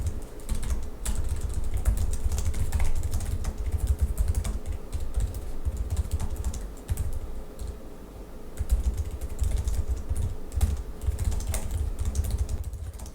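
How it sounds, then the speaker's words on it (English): Fast, continuous typing on a Lenovo ThinkPad X1 Carbon Gen 11 laptop keyboard, dense close-up key clatter with brief pauses and no talk. "I can rip out essays on a ThinkPad keyboard"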